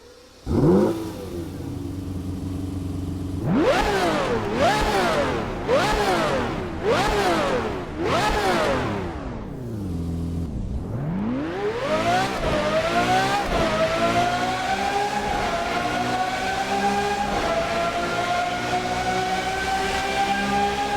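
A Lamborghini Murcielago engine in a video game revs hard through five rapid upshifts, each pitch climbing and dropping. After a brief dip it rises again into a long, sustained high-revving drone, loud and close with no speech.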